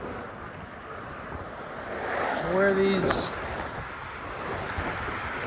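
Steady wind roaring across a microphone on the Golden Gate Bridge walkway on a windy day, a constant gusty rush with a brief voice speaking partway through.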